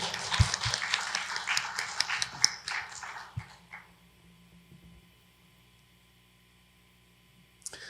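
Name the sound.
congregation applause of thanks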